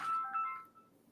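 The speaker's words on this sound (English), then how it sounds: "Oh, my phone was ringing." A mobile phone ringtone sounds briefly nearby, a short bright melodic chime that fades out within a second.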